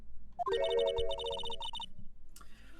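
A telephone rings in the Ace Attorney video game, a bright electronic trill repeating rapidly for over a second, fairly quiet and alone before a short click.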